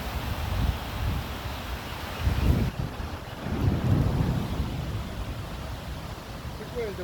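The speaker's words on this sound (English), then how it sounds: "Which way is the wind blowing?" Strong gusty wind in a windstorm ahead of a thunderstorm buffets the microphone in low rumbling surges that swell and fade over several seconds, with people talking faintly outdoors.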